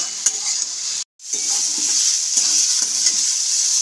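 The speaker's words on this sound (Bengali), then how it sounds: "সমস্ত সবজি যতক্ষণ না নরম হয়ে আসছে ততক্ষণ অবধি একটু নাড়াচাড়া করে নেব" Vegetables seasoned with salt and turmeric frying in a pan, stirred with a spatula: a steady bright sizzle with soft scraping strokes, close and continuous, with a brief near-silent dropout early on.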